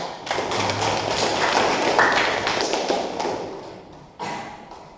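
A classroom of students applauds a poster project, giving a dense burst of clapping that builds, swells for a few seconds, then fades, with one short final flurry.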